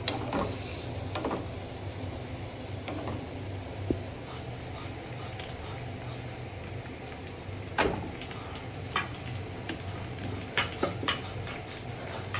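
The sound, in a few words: onions frying in a pan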